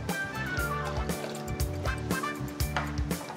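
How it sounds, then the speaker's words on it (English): Raspberry vinegar is poured into a pan of Pinot wine, giving a continuous close liquid splashing and bubbling sound of steady loudness with a few faint drips, with no talking. "We're going to put a splash of raspberry vinegar,"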